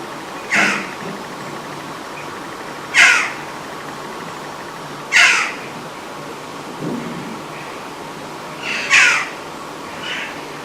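Outdoor birds in a garden give loud, harsh crow-like caws, about five spaced calls over a steady breezy ambient background, with no talking.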